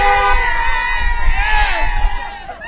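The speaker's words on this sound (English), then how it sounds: "There's the crowd. There's the watch party." A crowd at a watch party cheers and shouts together, a loud burst of excited voices and whoops close by that swells and fades over a couple of seconds.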